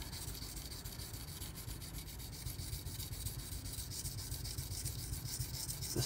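A kitchen knife is stroked across a slick, glazed-feeling Bernal Cutlery Takarazukushi whetstone, giving a continuous close gritty rubbing with a faint regular back-and-forth rhythm and no voices.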